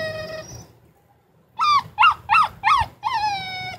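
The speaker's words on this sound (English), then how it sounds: "That's who this is. He's Nacho puppy" A puppy whimpers and yips in a string of four or five short, rising high-pitched cries, close and fairly loud, following an earlier drawn-out whine and a brief quiet gap.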